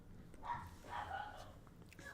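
A dog barks and yips faintly in the background, a couple of muffled bursts under a person talking.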